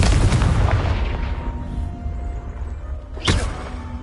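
A Confringo blast spell explodes in a Harry Potter video game with a loud booming burst that decays into a rumbling tail, followed by a second sharp crack near the end.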